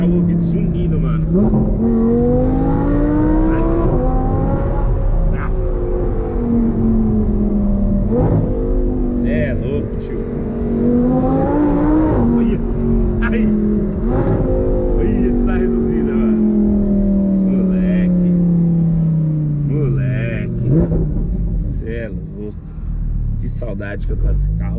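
An Audi R8 engine revs loudly and repeatedly, its pitch climbing and falling in long sweeps close by, with someone talking over it.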